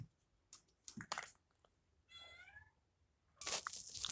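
A cat meows once in a toy-play scene, a clear rising-and-falling cry in the middle of the clip, with soft handling noises before it and a louder rustle after.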